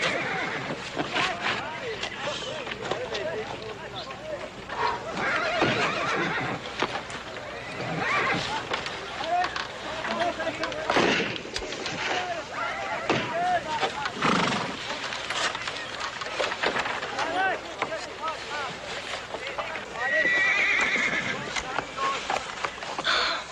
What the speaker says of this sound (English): I never dreamed I'd ever see a bucking bronco.